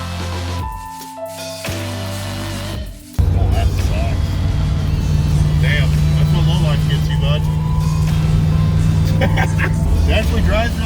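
A rebuilt car fitted with Dynacorn parts, heard on a test drive: after a quieter start with a brief dip, the engine surges in around three seconds and settles into a loud, steady driving drone while someone talks.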